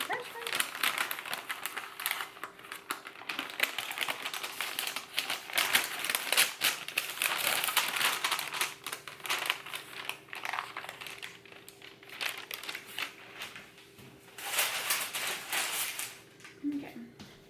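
Parchment paper crinkles and rustles while it is pulled back from a vegan apple pie crust. The crackling is steady and close, with faint voices in the background.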